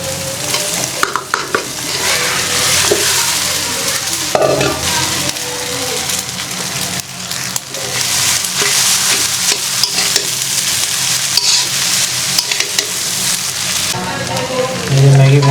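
Pasta and noodles fry in a pan with tomato and fried egg during village home cooking: a steady, close sizzle runs throughout, broken by repeated scraping and stirring clatter, with no talking.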